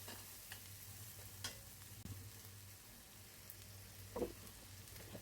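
Tomato and green chili frying in masala for a hilsa curry with potato and pointed gourd, a quiet low sizzle with a few soft stirring knocks and scrapes.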